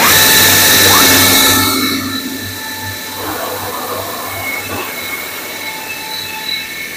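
A bamboo stick cutting machine fitted with a 5 mm cutter for making incense sticks gives a loud, steady mechanical rumble with a metallic screech that eases after a couple of seconds into a quieter running drone.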